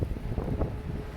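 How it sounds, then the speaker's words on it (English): Strong wind from a nor'easter snow storm in Halifax buffets the microphone outdoors, a loud, steady low roar with brief gusting swells, with no voices. "I got so much wind out here"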